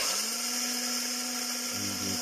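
An electric blender-chopper motor whines loudly and continuously nearby, its pitch shifting slightly toward the end.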